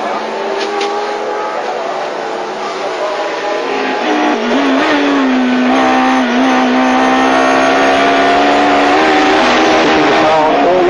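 A 1993 AMG Mercedes DTM touring car howls at sustained high revs around the Nordschleife, one steady loud engine note with slight pitch shifts through the bends, close and continuous, with commentary talking over it.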